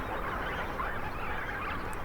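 A dense, continuous chorus of honking calls from a flock of juvenile lesser flamingos along a shoreline, steady and fairly loud throughout with no voices.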